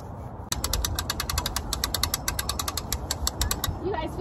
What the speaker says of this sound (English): And then I'm gonna sit down patiently and unstick it with the winch.